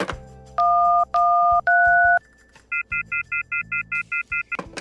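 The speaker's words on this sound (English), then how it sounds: "He dials random numbers and tries to make a call, but nothing happens." A motel room telephone being dialed at random: three longer two-tone key presses, then a quick run of about nine short, evenly spaced dial beeps, loud and close, with no voice over them.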